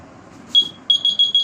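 A device's electronic buzzer sounds in short, shrill, high-pitched beeps, one brief chirp followed by three quick pulses in a row, loud and close over a faint hum.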